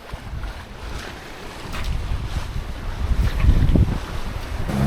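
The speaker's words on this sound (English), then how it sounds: "Got about 14 knots of wind and we're making good about 7 knots over ground, so sailing pretty well." A sailboat under way in about 14 knots of wind, making about seven knots, with steady wind buffeting and rushing water and waves around the hull that swell louder toward the end. No one speaks.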